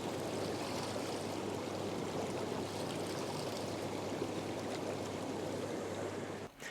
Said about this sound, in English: Then carefully pour the mixture of chlorine and water into the hot tub, ensuring that it circulates nicely.